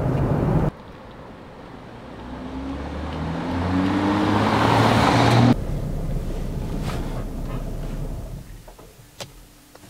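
BMW X3 with EDC adaptive suspension rolling over a cobblestone street, a steady low tyre and road rumble with engine drone that swells in the middle, then a lighter wind-buffeted cabin noise as it fades toward the end.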